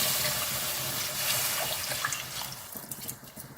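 Water pours steadily into a pan of cauliflower biryani gravy, a close, continuous rushing flow that thins toward the end into scattered splashes and drips.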